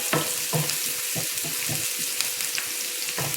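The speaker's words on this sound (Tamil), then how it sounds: "வெங்காயம் கொஞ்சம் நல்லா வதங்கினதும்" Onions sautéing in hot oil for Tamil karamani paruppu usili. A close, crackling sizzle is broken by irregular stirring scrapes, with no talking.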